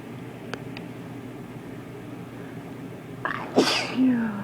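A single loud sneeze close to the microphone near the end, sharp and explosive with a brief trailing exhale, over a faint steady background hiss and a couple of small clicks earlier.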